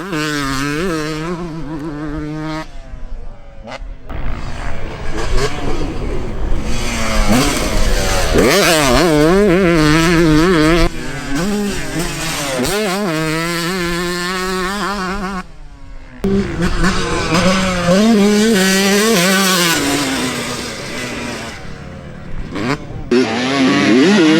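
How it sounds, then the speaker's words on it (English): A Yamaha YZ 125 two-stroke motocross bike ridden hard, its loud engine revving up and down through repeated acceleration bursts with brief drops off throttle, close and continuous over the whole stretch. "gonna show you some footage of David Pingree riding at Kawia, ripping on this YZ134."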